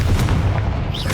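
A Confringo blasting spell from Hogwarts Legacy goes off as a dense, rumbling explosion that stays loud and boomy for the full short moment.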